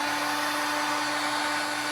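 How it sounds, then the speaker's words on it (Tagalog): A heat gun blows hot air onto shrink tubing, giving a loud, steady whooshing roar with a constant motor hum underneath for the whole stretch, with no talking. "So, yan ang power ng heat gun natin."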